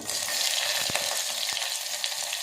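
Curry leaves dropped into hot oil, giving a steady, dense close sizzle with a few soft clicks and taps from the pan throughout.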